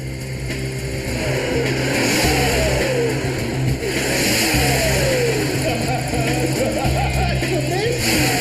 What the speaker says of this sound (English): The car's on a rolling road, connected to a computer which measures the peak power developed by the engine.